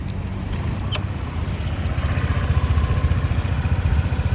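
A Honda PCX 125 fuel-injected scooter engine runs quietly at idle, a steady close low putter that grows slightly louder and more pulsing toward the end, with a brief tick near the start.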